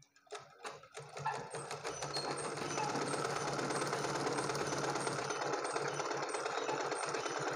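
A sewing machine stitches a blouse: after a few sharp clicks and short starts, it settles into a steady, fast, rhythmic whirring run of stitching that continues to the end.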